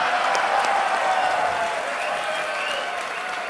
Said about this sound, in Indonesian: Tepuk tangan buat Pak Tito.